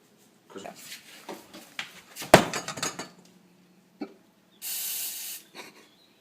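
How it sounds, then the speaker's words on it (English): Clattering of kitchen items and a sharp knock, followed by a single short hiss of non-stick cooking spray into a pan, close by. "Put the non-stick spray in there in the pan."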